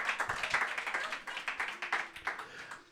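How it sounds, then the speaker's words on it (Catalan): A small group claps in a podcast studio, quick, fairly even slaps close to the microphone, modest in volume and lasting about three seconds with no talk over them. "Fora aplaudiments pels rebentons"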